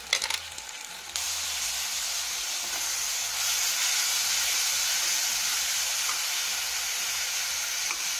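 Green chili paste hitting hot oil with onions in a pan, a loud steady sizzle and hiss that flares up and then holds continuously, with faint stirring scrapes at the start.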